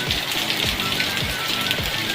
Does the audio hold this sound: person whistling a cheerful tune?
no